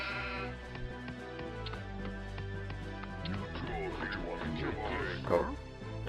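A sheep in the video game Warcraft 2 gives a brief bleat late in the passage, mixed in with game music and other game sounds.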